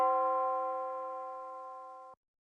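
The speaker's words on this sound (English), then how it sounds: "I decided to add this tubular bell." A tubular bell struck once in a music production mix, ringing with a sustained, evenly spaced tone that decays gently for about two seconds before it cuts off abruptly, with no voices.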